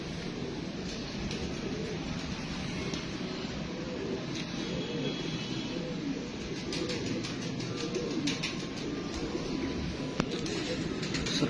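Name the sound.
pigeons cooing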